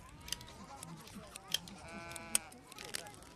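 Sheep bleat in a Mongol camp in a few soft, wavering calls, faint against a quiet outdoor background while a narrator speaks over them.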